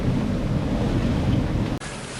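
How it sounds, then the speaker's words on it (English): Strong wind roars over waves and surf while sailing with a reefed sail at about 22 knots, a loud continuous rush close to the microphone that briefly cuts out and resumes. "22 knots of wind."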